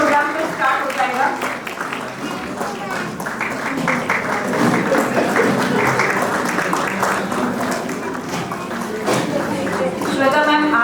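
Audience clapping for children at a play school annual day, a broad wash of applause mixed with chatter and voices, swelling and continuing for several seconds.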